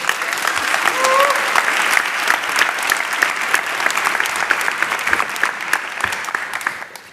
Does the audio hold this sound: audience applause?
yes